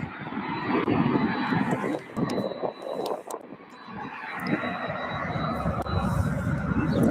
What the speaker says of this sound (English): Steep climb for that 767.